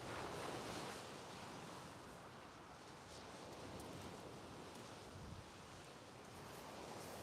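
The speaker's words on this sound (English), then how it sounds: "wind's whipping round in front" Strong wind blows steadily across a UK sea shore, a broad continuous roar with surf washing underneath, buffeting the microphone throughout and never easing.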